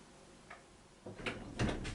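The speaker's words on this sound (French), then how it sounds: "j'ai un chat qui gratte à la porte" A cat scratches at a door in a quiet room: faint, scattered scraping strokes that build into a louder rough rasping toward the end, with no one speaking.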